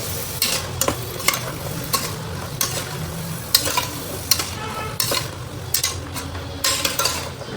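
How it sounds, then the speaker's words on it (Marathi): Mixed vegetables frying in a pan for veg pulao, a steady sizzle broken by repeated scraping and clinking strokes of a spoon stirring against the metal, close and fairly loud with no talk. "साधारण एक मोठी वाटी होतील एवढ्या भाज्या आपण टाकायच्या"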